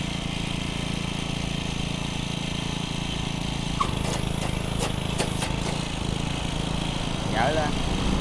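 A cheap mini tiller's small engine runs steadily close by, a constant mechanical drone with a few clanks partway through, while people talk over it.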